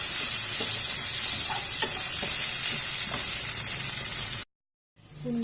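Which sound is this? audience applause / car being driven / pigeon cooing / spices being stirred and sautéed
spices being stirred and sautéed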